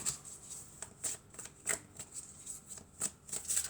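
Oracle cards being shuffled by hand, with a run of quick, crisp riffling snaps and slides heard up close over a quiet background.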